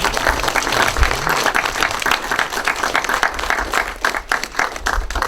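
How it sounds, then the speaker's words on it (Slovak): An audience at a poetry night applauds, a dense, steady wash of clapping that stays loud from start to finish without any speech. "Najskôr potlesk."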